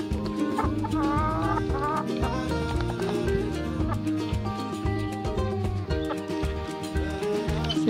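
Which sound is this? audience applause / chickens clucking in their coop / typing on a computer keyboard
chickens clucking in their coop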